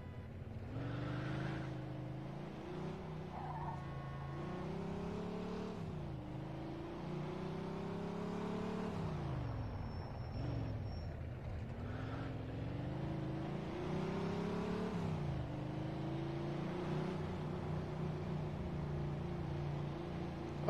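A car's engine drones and shifts pitch as it drives in Mafia II, a steady close motor note rising and falling through gear changes for about twenty seconds, with no talking.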